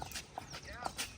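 Horse hooves clip-clopping on a residential colony street, a few sharp, evenly spaced knocks close by over a soft background.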